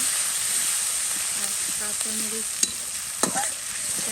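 Onion and turmeric frying in a pan, a steady sizzle close up with a couple of sharp spatula clacks against the pan near the end.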